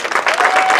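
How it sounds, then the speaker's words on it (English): Brief, dense round of applause from a high school graduation audience, loud and steady with crowd noise. "she still deserves a round of applause"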